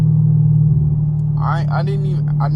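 A Chevrolet Camaro SS sits idling with a deep, steady low exhaust rumble close by, while someone talks over it in the second half.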